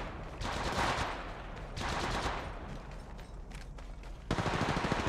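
Rapid automatic gunfire in Apex Legends Mobile, bursts of loud, dense shots that pause briefly and resume, sustained throughout with a sharp fresh burst near the end.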